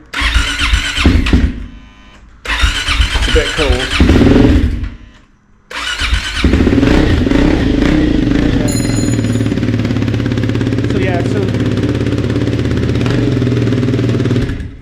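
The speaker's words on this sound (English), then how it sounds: "I'm just going to start the bike up now, so you can hear maybe." A Triumph Scrambler 400x with a new exhaust can is cranked in the cold, catching after a couple of tries and settling into a loud, steady, close idle, with a brief spoken remark near the start.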